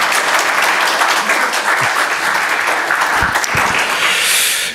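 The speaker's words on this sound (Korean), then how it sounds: "성가대 잘 하실 수 있도록 박수로 한번 격려해 주시기 바랍니다" A church congregation claps loudly and continuously in encouragement of the choir, a dense, close wash of applause that holds steady for several seconds before cutting off.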